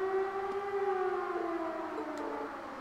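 A long, steady wailing siren from a fort in the video game Trails of Cold Steel drones in the distance, holding a sustained tone with a slight drop toward the end.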